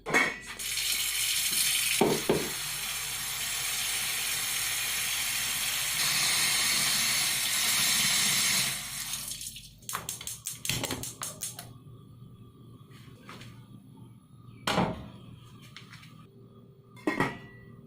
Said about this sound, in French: Ok, donc maintenant on va ajouter de l'eau et on va mettre ça sur le feu.